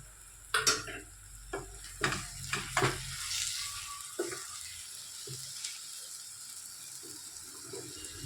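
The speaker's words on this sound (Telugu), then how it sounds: "అన్నీ బాగా కలిపి ఒక్క రెండు నిమిషాలు ఇలాగా వేయించుకోవాలి" Potato masala curry being stirred and fried in a pan, with a few scraping strokes of the spoon early on over a steady, fairly soft sizzle that runs throughout.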